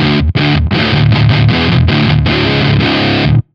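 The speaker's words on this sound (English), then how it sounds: "Like without the pitch shifting, it'll just sound like, let's see, it'll probably just sound like your average metal tone." Electric guitar tuned to drop D played through heavy distortion without pitch shifting, giving an average metal tone: loud, dense chugging chords with brief cuts between them, stopping abruptly at the end.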